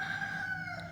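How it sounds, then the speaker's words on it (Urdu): A rooster crows in one sustained, wavering call near the start of a household background, fairly clear over low ambient noise, with no talking. "یہ مرغے کی آوازوں کو پیچھے جو بیک گراؤنڈ پہ آوازیں آ رہی ہیں"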